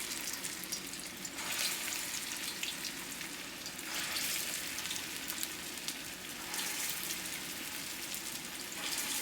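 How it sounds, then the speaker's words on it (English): Meatballs searing in olive oil in a pan, a soft, continuous frying hiss that swells and eases in waves, fairly quiet and without speech. "what I'm doing is I'm actually just searing them"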